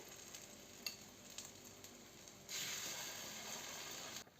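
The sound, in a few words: potatoes frying in a pan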